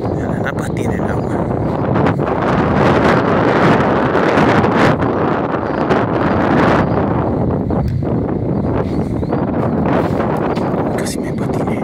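Wind blows hard across the lagoon at Laguna de Navarro on a windy day. It buffets the microphone with loud, continuous gusty roaring and rustling throughout.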